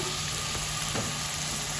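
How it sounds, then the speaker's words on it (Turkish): Steady, close sizzling of onions frying in a hot pan, with a couple of faint stirring clinks. "Soğanım kavrulsun."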